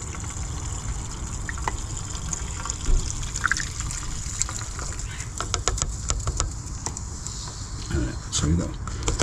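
Cleaning solution poured from a jug into an RV fresh water tank, giving a steady close trickle and gurgle of liquid with a few splashy spots and faint voices in the background.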